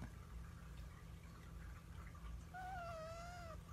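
A single drawn-out cat meow rises near the end over a steady low background hum, fairly quiet and close.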